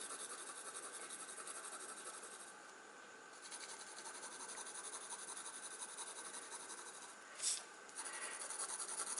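Colored pencil laying down a base color on paper: a steady, close scratchy rubbing that continues almost without a break, fading slightly for a moment, with one brief louder scrape near the end.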